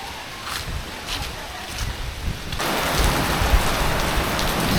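A sudden heavy downpour in Luang Prabang, Laos, starts as a moderate hiss and then surges into a dense, loud roar of rain close by.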